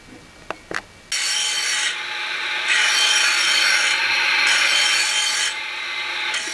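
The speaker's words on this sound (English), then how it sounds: "Lawn Mower Sharpening at the Alameda Repair Shop" A lawn mower blade is sharpened at a repair shop in Alameda, California: a couple of sharp knocks, then a loud, steady grinding rasp that runs for over five seconds, swelling and easing slightly as the blade is worked.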